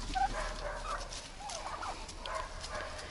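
Several free-ranging turkeys outdoors gobble in bursts, a throaty warbling chorus rising and falling across the clip, fairly close, with no talking.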